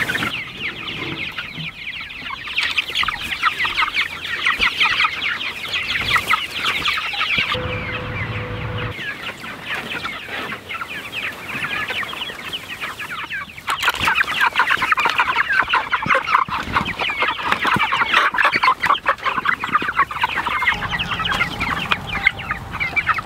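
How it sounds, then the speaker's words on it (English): Many meat chickens cluck and chatter together nearby on a farm just after feeding, a busy continuous flock noise with occasional louder squawks and no talking. "We just fed all of our meat chickens."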